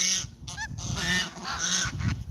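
Several geese honk loudly and close, overlapping calls in a noisy, insistent chorus with no pauses.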